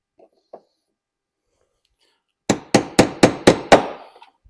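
Six sharp hammer strikes knock a rivet out of the wheel-arch flare on a BMW X5, evenly spaced and loud after a quiet start with a couple of faint taps.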